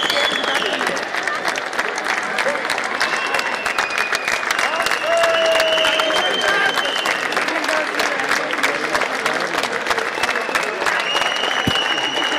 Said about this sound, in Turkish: Evet, alkışlarla karşılıyorlar.